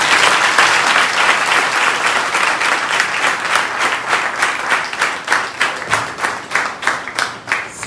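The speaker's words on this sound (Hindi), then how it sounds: "फिर एक बार और जोर से प्रभु के लिए हम ताली बजाएं।" A church congregation claps loudly at close range. The applause starts as a dense wash and settles into rhythmic unison clapping, with no talking.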